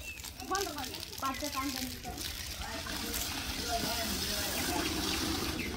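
Water runs steadily from a pipe left open, a continuous rushing flow that grows slightly fuller over time, with people talking over it throughout.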